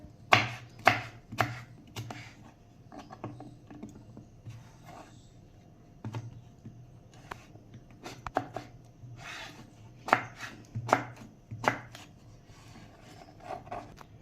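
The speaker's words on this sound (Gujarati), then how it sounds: "આવી રીતે આપણે કેરીના આટલા ટુકડા કરી લેવાના" A knife chops raw mango into pieces on a board, giving close, crisp, irregular strikes that come in quick bursts and short pauses, with no voices.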